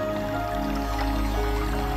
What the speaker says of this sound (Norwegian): lytt til den monotone, evigvarende lyden av rennende vann